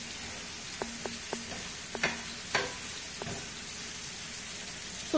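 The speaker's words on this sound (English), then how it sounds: "Now our sides are starting to become to sizzle." Side dishes frying in a pan give a steady, fairly quiet sizzle and hiss throughout, with a few brief clinks and scrapes of stirring, and no voices.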